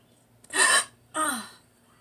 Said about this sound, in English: My hiccups are like the weirdest thing.